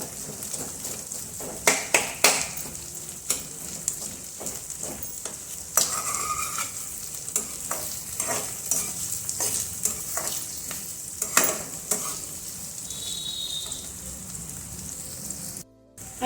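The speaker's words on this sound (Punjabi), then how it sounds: "ਪਿਆਜ਼ਾਂ ਨੂੰ ਆਪਾਂ 2-3 ਮਿੰਟ ਵਾਸਤੇ ਭੁੰਨ ਲਵਾਂਗੇ" Onions fry in a pan with a steady crackling sizzle and repeated sharp scraping and tapping of a spoon or spatula, close up and moderately loud, with no voices.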